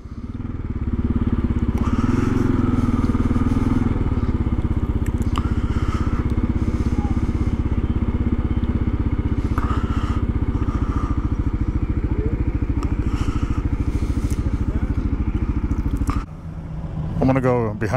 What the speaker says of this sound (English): Show off the motorcycles.